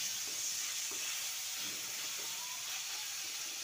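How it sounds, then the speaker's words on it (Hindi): Tomatoes frying with roasted corn in a pan hiss and sizzle steadily up close, with soft intermittent stirring scrapes underneath and no voices. "और अच्छे से टमाटर को पकने देते।"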